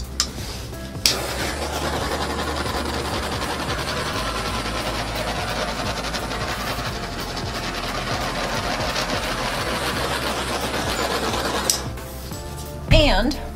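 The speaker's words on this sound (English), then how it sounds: "I'm gonna torch the colors." A torch flame roars steadily over paint colors for about eleven seconds, a loud continuous hissing blast with sharp clicks at start and end, and a voice speaks briefly near the close.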